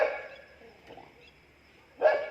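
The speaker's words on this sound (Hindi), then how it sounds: "ये देखो कुत्तों की आवाज़" Several dogs bark at a distance, a couple of faint barks and then a louder one near the end, set against a quiet background.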